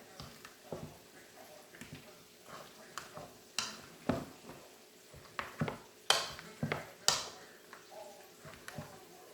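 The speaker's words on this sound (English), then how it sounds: "So just want to get my potatoes kind of mashed up with 1 stick of butter." Cooked potatoes being mashed by hand with butter in a pot, irregular soft thuds and metal clinks against the pot, close and fairly quiet, with a voice talking faintly underneath.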